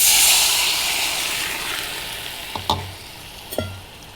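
Shrimp sizzle loudly in a frying pan, the hiss fading slightly, with two brief clanks of a utensil near the end.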